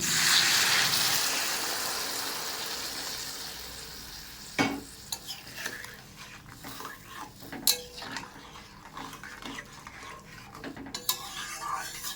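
Hot water poured into a pan of frying spices for a prawn and teasel gourd curry, a soft sizzle under scraping and clinking of a spoon against the pan, with a few sharper knocks.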